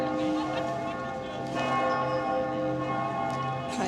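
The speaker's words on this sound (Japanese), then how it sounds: "なんか11時半に鐘が鳴るみたいです" A church bell rings out in Florence at half past eleven, its steady tolling with long humming overtones sounding loud and continuous across the open city air.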